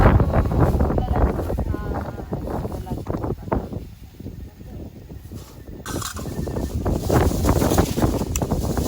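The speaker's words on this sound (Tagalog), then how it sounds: "Lakas ng hangin dito." Strong wind buffets the microphone in steady gusts on Mt Balagbag, with people talking intermittently underneath the blustery roar.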